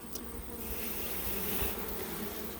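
Honey bees buzz steadily over open hive frames during a summer swarm season with fresh wax being built, a dense continuous hum close by with no talking.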